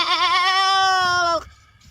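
A man imitates a goat's bleat with his voice, one long wavering, nasal cry held for about a second and a half, loud and close, then breaking off into quiet.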